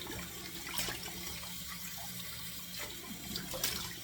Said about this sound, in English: I find doing the cold water splash significantly reduces that.